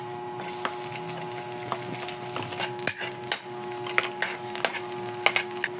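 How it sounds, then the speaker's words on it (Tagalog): Garlic sautéing in hot oil in a pan, a soft continuous sizzle close by, punctuated by repeated sharp clicks and scrapes of stirring, with a steady tonal hum underneath. "Maglagay na po tayo ng mantika at umpisahan na po nating maggisa. Lagay na po natin ng bawang."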